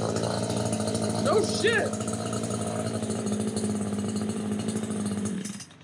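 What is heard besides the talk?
Echo CS 3510 chainsaw engine running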